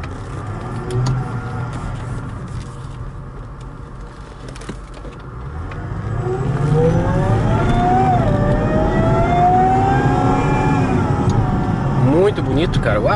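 Cadillac STS with a 4.4L supercharged 32-valve V8 of 469 hp, idling and then revving into a steady, rising engine drone heard from inside the car while someone talks over it.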